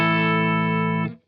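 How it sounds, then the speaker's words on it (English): An electric guitar through a Fractal FX8 compressor, a single sustained chord held evenly for about a second before being cut off, close and loud with no talking. "Adding in the compressor just kind of evens things out,"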